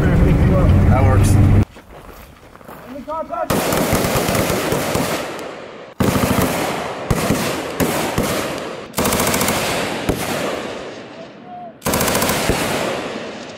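Loud bursts of automatic gunfire from army vehicle weapon systems during a live-fire team qualification on a range, several rapid volleys separated by brief pauses, with faint voices in between.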